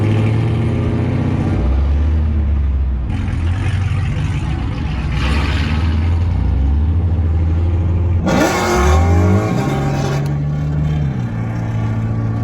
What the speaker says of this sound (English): Not sure if you'll be able to hear me over the sound of the car.